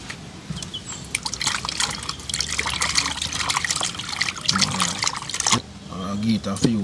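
Water trickles and splashes steadily as raw chicken is rinsed outdoors for a Christmas barbecue fry, with a short pause before the flow resumes; a voice talks over part of it.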